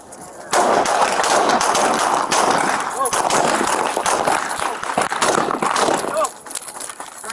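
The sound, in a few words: gunfire recorded on police body-worn camera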